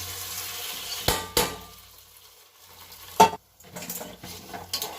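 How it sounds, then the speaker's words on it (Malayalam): A spoon stirring fried tempering into cooked rice in a pot while making pongal, with a few sharp clinks against the vessel, soft wet mixing and a faint sizzle, close and otherwise quiet. "ഇനി ഇതിനെ നേരെ എടുത്തിട്ട് നമ്മുടെ അരി വേവിച്ച് വെച്ചിട്ടുണ്ടല്ലോ അതിലേക്ക് നേരെ കൊട്ടി എല്ലാം കൂടി നന്നായിട്ട് മിക്സ് ചെയ്തെടുക്കണം"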